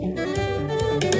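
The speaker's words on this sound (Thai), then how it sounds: "นี่คือเสียงของไวโอลินนะคะ" A violin plays sustained, bowed notes with rich harmonics, continuous and fairly close for just over a second, with no voices.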